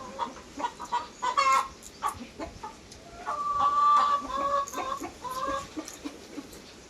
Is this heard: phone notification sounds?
no